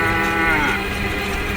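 Cow mooing near a road, one long loud low bellow with a rising tonal middle, heard close over steady background noise.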